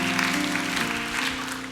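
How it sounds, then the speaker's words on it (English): Audience clapping in a tent gathering, a brief burst of applause at moderate volume with a low tonal hum running underneath. "a big round of applause for yourselves"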